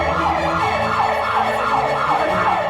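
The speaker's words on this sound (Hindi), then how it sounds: "क्या वो सायरन है?" A wailing emergency siren cycles up and down repeatedly, loud and fairly close, over a low rumble of road traffic.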